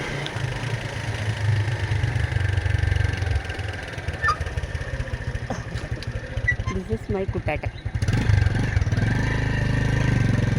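A small motorcycle of about 1.5 rating idles steadily at close range, a low continuous engine rumble with a voice talking over it.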